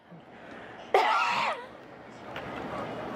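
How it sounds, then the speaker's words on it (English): A single short cough bursts out sharply, loud and close, followed by quiet room tone and a faint later sound. "Was that a cough? No, just a little tickle in my throat. That was a cough."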